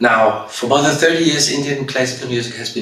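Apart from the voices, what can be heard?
No everyday noises stand out.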